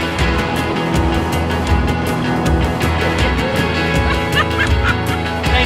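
A crowd of fowl calling loudly and continuously, with gobbling and honk-like cries overlapping in a busy, close chorus and no speech over it.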